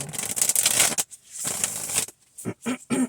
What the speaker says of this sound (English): Let me give them a quick shuffle here.